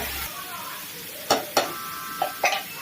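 Onions, garlic and green chilli sautéing with rock salt in a pan: a steady low sizzle with a few sharp scraping stirs and clinks of a utensil against the pan near the end.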